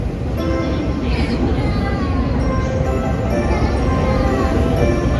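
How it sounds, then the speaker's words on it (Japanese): A 14-car train bound for Numazu departs platform 10 at Tokyo Station, its steady rolling rumble and rail noise filling the clip continuously and loudly from start to finish. "10番線沼津行き発車です。"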